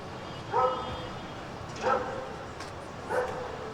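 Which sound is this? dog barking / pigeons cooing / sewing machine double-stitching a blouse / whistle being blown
dog barking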